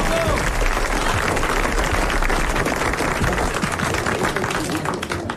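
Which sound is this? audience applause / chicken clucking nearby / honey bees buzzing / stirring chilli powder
audience applause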